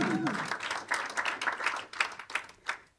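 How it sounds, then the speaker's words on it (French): An audience applauds briefly and fairly faintly, its clapping rising in uneven bursts before fading out. "On l'applaudit bien fort."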